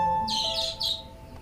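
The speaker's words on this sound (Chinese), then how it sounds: "小鸟，小鸟，" Small bird chirping in a quiet indoor palace scene, a few quick high tweets in close succession, clear and near over a faint background hum.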